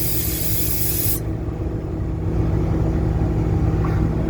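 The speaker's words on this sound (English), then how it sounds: "The air compressor does work." Steady mechanical engine drone of an air compressor on a 2011 Ford F750 service truck, with a loud hiss of air at the start that abruptly cuts off, the motor running on alone.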